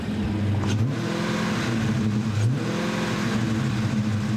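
A Dodge Challenger muscle car engine revs close by, a deep throbbing growl with rising and falling pitch sweeps, sustained and loud throughout with no talking.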